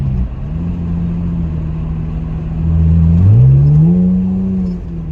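A Lexus GS300 with a 2JZ engine, replica Flowmaster Super 10 mufflers and a resonator idles with a deep, steady drone, then revs up to a louder, rising growl before settling back down.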